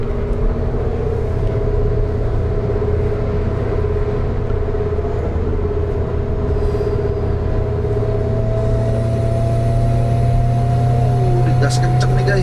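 Toyota Avanza Turbo car pulling hard at speed with a steady, loud engine drone and heavy low rumble throughout, a rising whine building toward the end while people talk inside the cabin.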